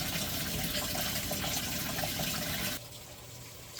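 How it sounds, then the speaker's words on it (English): Water gushes steadily as an RV washing machine empties during a spin-only cycle. The rush is loud and continuous, then drops to a quieter flow for the last second. "I'll just go to the spin only, so it's forced to start emptying instead of waiting for it to do the rinse"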